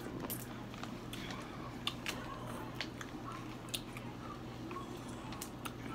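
Mussels cooked in beer with butter being eaten up close, with soft, wet squishing bites and small clicks at irregular intervals over a faint low hum.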